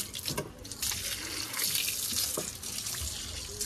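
Tap water runs steadily from a faucet at a holy site in Shravanabelagola as people rinse their feet, a close, continuous gush with splashy variation and no talk.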